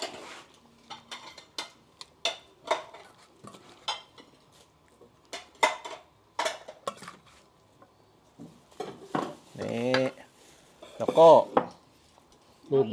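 Boiled chicken in fish sauce scooped with a ladle into a serving bowl, with scattered clinks and scrapes of utensils against dishes and a few short knocks, moderately close, plus some brief talk.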